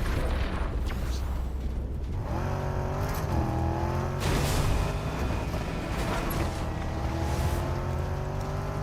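Car engine driving in the video game Fortnite: a loud, continuous motor drone with rising and falling revs and shifting pitch sweeps, with no talk over it.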